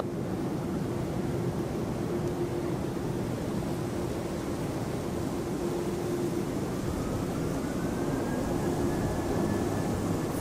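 An airliner takes off at Hong Kong Airport, a steady roar of jet engines joined by a rising whine, with wind rumbling across the microphone throughout and no talking.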